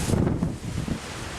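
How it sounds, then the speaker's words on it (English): Strong afternoon wind outdoors buffeting the microphone in low, rumbling gusts, loud at first and then easing slightly over a brief moment, with no talk. "I can barely hold the camera, it's so windy."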